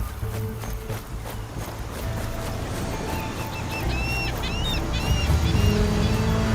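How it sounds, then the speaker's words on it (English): Seagulls cry in a video game trailer, a cluster of high calls rising over a loud, steady bed of wind and ambient sound in the second half. "The seagulls are giving away my location."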